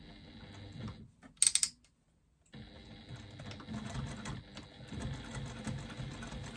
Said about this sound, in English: I'm going to stitch across the bottom using an 1/8 inch seam allowance.